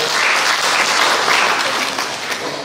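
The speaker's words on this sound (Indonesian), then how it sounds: "Tepuk tangan untuk Tanggamus." Steady applause from an audience at a formal regional council plenary session marking a district's 27th anniversary, dense broadband clapping sustained throughout with no talk over it.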